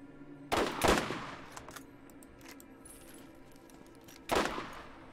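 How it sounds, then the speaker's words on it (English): Sniper rifle fire in Borderlands, a video game: two sharp, loud single cracks spaced about four seconds apart, with quieter clicks and mechanical rattles between them. "Sniper rifles."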